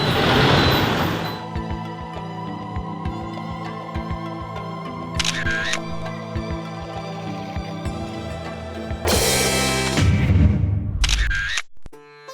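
A camera shutter fires in rapid bursts on a Hanoi street while motorbikes and traffic drone steadily nearby.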